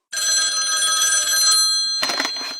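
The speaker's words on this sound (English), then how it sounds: "Why is there a phone ringing in a recording booth?" Inside a recording booth a telephone rings with a continuous bright trilling tone for about a second and a half, then stops, followed by a brief rustling clatter like a handset being picked up; close and clear.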